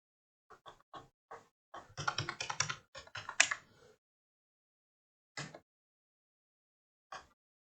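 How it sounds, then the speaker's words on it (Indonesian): Computer keyboard typing script code, sparse single keystrokes then a quick flurry of clicks and a few isolated taps afterward, close and clear in a silent room. "Kemudian kita ketikkan scriptnya."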